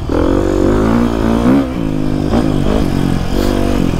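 An enduro motorcycle engine revs loudly and close while being ridden, its pitch rising and falling in rough, throttle-driven surges.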